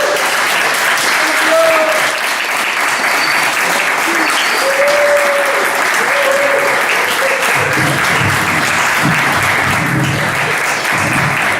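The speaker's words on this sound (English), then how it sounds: "Give her a round of applause." An audience at a poetry reading applauds a woman poet in sustained, loud clapping that fills the room, with some voices and shouts mixed in toward the end.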